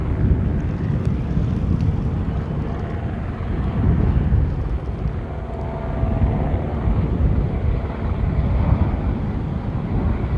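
Helicopters and a plane drone in the distance near an erupting volcano, a continuous low rotor and engine rumble heavily buffeted by wind against the microphone.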